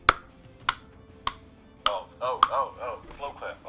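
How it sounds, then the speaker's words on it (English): A slow clap: a handful of sharp, spaced single hand claps close to the microphone, roughly one every half second, with a voice talking over the later claps. "Oh, slow clap."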